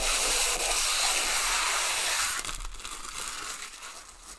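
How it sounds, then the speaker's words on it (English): Protective plastic film is peeled off a Dell SE2417HGX 24-inch monitor, giving a continuous close crinkling, tearing hiss that softens slightly toward the end. "Let's just take off all the excess here, all the protection."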